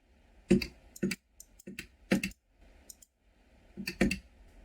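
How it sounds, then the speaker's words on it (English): A computer mouse clicks during a League of Legends jungle coaching session with Graves, sharp close taps landing in irregular bursts of two or three, separated by short silences. "My mouse is on this, and I'm clicking auto right now."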